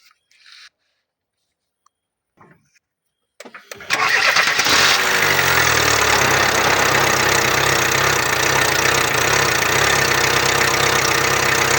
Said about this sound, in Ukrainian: Давайте зараз заведемо двигатель, подивимося, як він працює